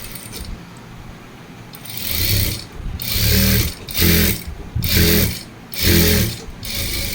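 A sewing machine stitches a uniform in short bursts, whirring and clattering mechanically for about a second at a time with brief pauses between runs, close and fairly loud.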